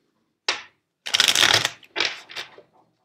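A tarot card deck being shuffled: a single short riffle snap, then a longer flurry of fluttering, slapping cards and two shorter bursts, close and clear with no talking.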